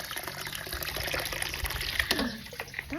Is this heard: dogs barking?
no